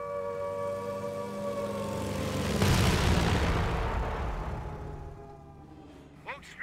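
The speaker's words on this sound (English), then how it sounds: "Incoming American planes!" American warplanes fly overhead in the Company of Heroes video game, during a battle at Trun in the Falaise Pocket. A roar swells and passes overhead mid-clip over a sustained tonal drone.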